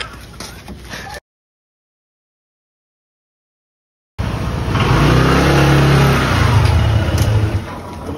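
A motorcycle engine revs loudly and close after a brief pause, the revving building and holding before easing off at the end.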